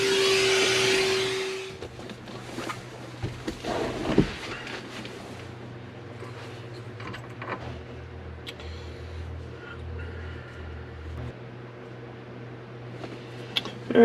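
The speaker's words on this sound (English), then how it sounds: "I got the vacuum out." A vacuum cleaner runs inside a car interior during tidying, a loud whine at first that cuts out, followed by quieter handling clunks, bumps and a low hum.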